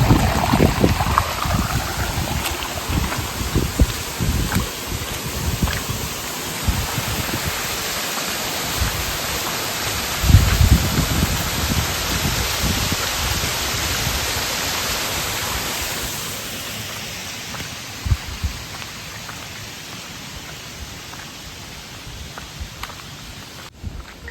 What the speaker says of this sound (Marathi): बघा धबधबे बघा